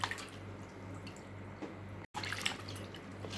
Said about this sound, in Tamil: தக்காளியும் கழுவி எடுத்துக்கலாம்.